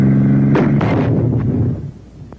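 An infantry anti-tank weapon fired at a sandbagged enemy machine-gun position, a loud close blast with a sharp crack followed by rumbling debris that fades out over a couple of seconds.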